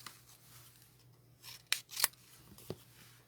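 Scissors trim a piece of stamped paper in a few quick, crisp snips, close and quiet against a faint background hum, with no talking.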